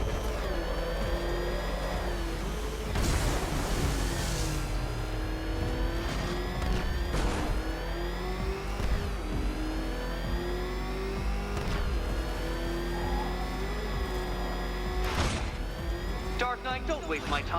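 The Batmobile racing around a track in Batman: Arkham Knight, its engine droning and revving steadily with gear shifts and sharp bursts of acceleration, while a voice talks over it.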